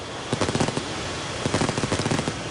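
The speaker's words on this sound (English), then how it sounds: "I heard the fireworks and I thought it was gunfire. Now, it sounds more like mortar explosions." Fireworks go off in two rapid, crackling bursts that resemble gunfire or mortar fire. Each burst is a string of sharp pops, heard at a moderate distance with no talking.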